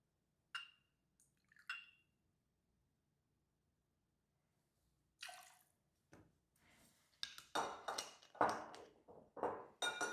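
Vodka poured in short bursts for a Texas Tea cocktail: a couple of quiet liquid trickles and clinks early, then louder splashing pours toward the end, no talk.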